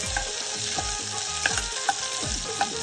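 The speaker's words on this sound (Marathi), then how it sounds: "आवाज बघा आवाज फोडणीचा." Onion sizzles in hot tempering oil over a wood-fired stove while mutton curry is being cooked, a steady loud frying hiss with faint stirring scrapes and small pops.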